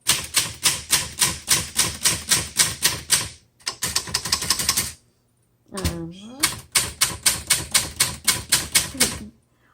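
A 1968 Adler Universal 20 desktop typewriter clacks in quick, even bursts of keystrokes, broken by a carriage return with a rising ratchet and a short pause, loud and close with no talk.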